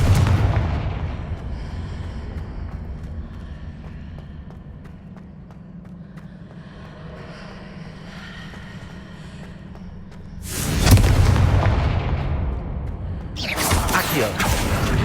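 Confringo blasting-spell explosions in Hogwarts Legacy: a low rumbling bed gives way to a loud, sudden blast near the end, followed by a second burst that cuts in sharply.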